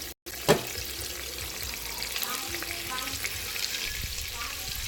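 A blended pepper and onion mixture hits hot oil in a pot for eggplant (garden egg) stew, giving a steady close sizzle and crackle after a brief splash, with soft stirring noises.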